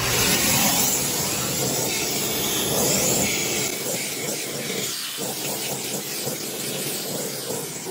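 A Hart 8-gallon 6HP shop vac runs with a loud, steady broadband roar and hiss that stays close and continuous, easing slightly partway through.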